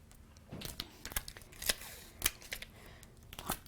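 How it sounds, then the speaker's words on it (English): Double-sided tape peeled from its backing and pressed onto card while making a simple sympathy card, heard as a series of close, sharp crackling and tearing bursts with short pauses between them. "I'll just use a little bit of double-sided tape here."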